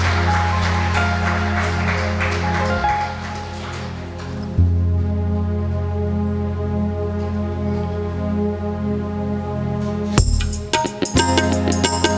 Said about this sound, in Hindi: जोरदार ताली बजाते हुए प्रभु का धन्यवाद करें।